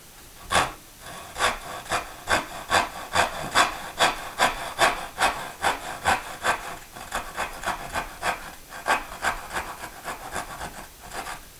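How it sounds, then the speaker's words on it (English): A hand saw making a straight down cut into wood for dovetail joints, with rapid, even back-and-forth rasping strokes, close and clear and heard on their own throughout. "I'm just making a straight down cut."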